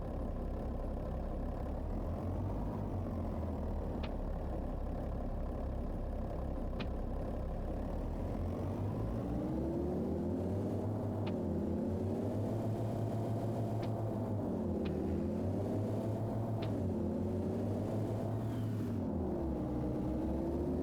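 A vehicle engine in Farming Simulator 25 idles and runs steadily, a low continuous rumble with slight rises and falls in pitch, fairly quiet and alone without talk.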